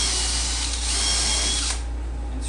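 A power drill pre-drills holes in wood for a Sundown Audio speaker box build, giving a single steady high whine for about two seconds before winding down.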